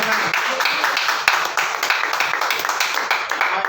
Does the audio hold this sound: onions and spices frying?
no